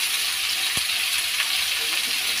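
Soya chunks fry in hot oil with a steady, close, broadband sizzle that runs unbroken the whole time, and a single sharp tap or clink cuts through it early on.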